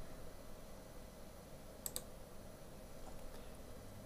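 A computer mouse clicking while working in Pinnacle Studio 19 Ultimate video editing software: two quick, crisp clicks close together near the mic, followed later by a fainter click, over a steady low room hum.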